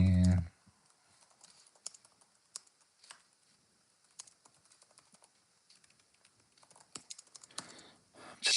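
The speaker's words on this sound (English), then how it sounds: "just typing a description in the chat here" Rapid, irregular clicks of keys being typed on a computer keyboard, close and fairly quiet, running steadily for several seconds in a quiet room after a brief louder noise at the start.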